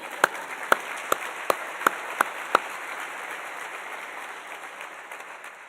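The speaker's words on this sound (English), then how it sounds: "let's at least give one last round of applause for everyone's favorite retriever, David Oriala." At a physical therapy white coat ceremony, the audience claps: about seven sharp, distinct claps in quick succession, then a faint fading murmur with no talk.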